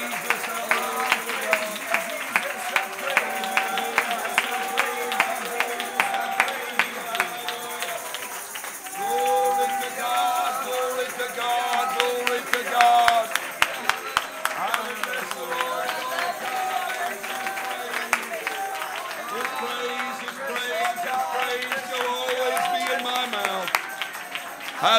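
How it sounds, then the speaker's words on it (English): A church congregation claps along in praise during a worship service, making a steady rhythmic beat of many hands. Loud singing and voices carry on over the clapping throughout. "Oh, clap your hands, all you people."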